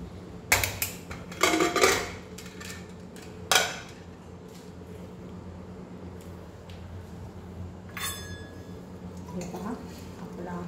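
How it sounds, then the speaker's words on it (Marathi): A pressure cooker lid being opened after cooking soyabean pulao: a few loud metallic clanks and scrapes of pot and lid early on, then quieter clinks and a brief ringing ping over a low kitchen hum. "आता आपला कुकर छान थंड झालेला आहे आणि आता आपण तो ओपन करून"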